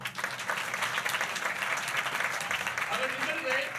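A congregation at a church New Year service applauds, with dense, steady clapping filling the whole stretch and voices mixed in throughout.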